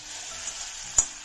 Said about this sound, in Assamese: মছলাখিনি ভুনা হ'বলৈ